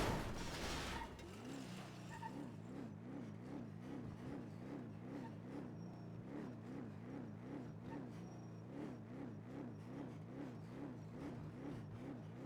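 A car in the NoPixel video game hunts endlessly between first and second gear, its engine note rising and falling in a steady repeating wobble of about two cycles per second, loud and alone after a brief burst at the start.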